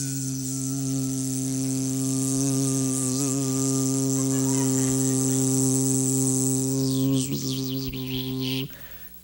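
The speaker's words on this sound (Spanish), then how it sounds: "Y ahí hay un mosquito." Animated mosquito buzzing, a steady, loud, high droning whine with a stack of harmonics, wavering slightly in pitch and cutting off abruptly near the end.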